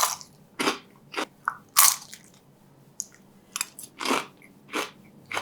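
Crisp bites and chewing of crunchy fried mini Shanghai lumpia with a thin wrapper, heard close up as a string of loud, sharp crunches separated by quieter moments of chewing, with no talking.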